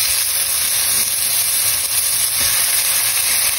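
Garlic sautéing in oil in a pan for a white pasta with basil, a loud, close, continuous sizzle and crackle with faint stirring, no talking.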